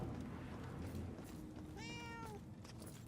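A cat in the video game Murdered: Soul Suspect gives a single clear, drawn-out meow midway, heard over a constant ambient background hum with no talking.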